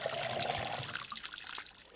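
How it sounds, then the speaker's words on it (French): Watering plants in the video game Schedule 1, a steady trickling pour of water that fades toward the end, fairly close and continuous with no talk. "faut que j'arrose mes plantes."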